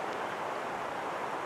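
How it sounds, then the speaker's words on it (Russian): Wind picks up outdoors as storm clouds gather over a July chanterelle-foraging outing, heard as a steady, quiet broadband rush with no gusting breaks across the short stretch. "Ветер поднялся."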